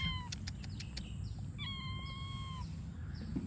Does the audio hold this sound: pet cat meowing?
yes